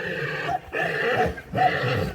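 Stallion brought among mares gives three loud, drawn-out whinnying calls close by, each separated by a short pause.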